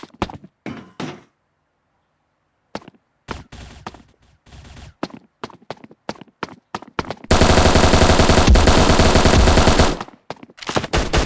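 A SIG MP5 submachine gun fires in the Bullet Angle Xshot mobile shooter game, first in short clipped bursts, then one long continuous loud automatic stream lasting several seconds, followed by more scattered shots.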